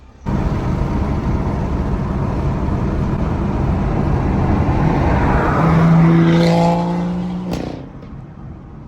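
A BMW track car drives on the road while its new tyres are bedded in, a loud steady engine drone that rises as it accelerates through climbing gear tones, then cuts back sharply near the end.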